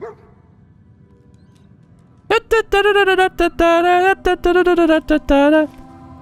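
Dog in the Fallout 4 video game gives a burst of sharp, rapid barks and yips, loud and close, after a quiet stretch with no talk.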